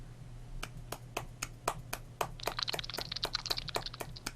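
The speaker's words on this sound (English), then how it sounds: "That's the sound of one hand clapping." Sharp, evenly spaced slaps of a single hand striking, starting sparse and then quickening into a denser flurry of cracks over a low hum.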